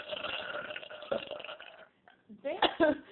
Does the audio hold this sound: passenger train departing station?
no